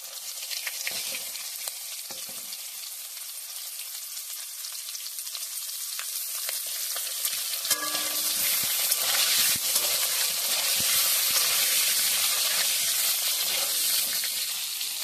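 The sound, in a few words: pointed gourd (potol) frying in oil with salt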